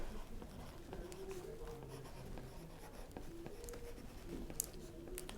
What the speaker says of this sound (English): Let me write down the name.